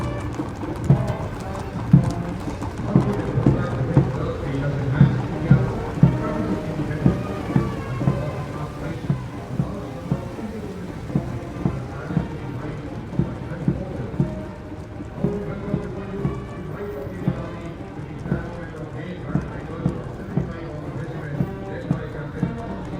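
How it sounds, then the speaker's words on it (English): Horse hooves clip-clop on tarmac during a Republic Day parade on Kartavya Path in New Delhi, a steady rhythmic procession of many hoofbeats, fairly loud, under band music and a voice speaking. "the clip-clop of the horse hooves on the tarmac"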